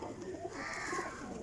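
A Teddy pigeon held in hand gives a short, low, rolling coo, faint and close, over soft background noise.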